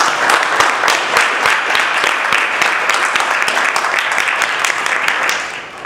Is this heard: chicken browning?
no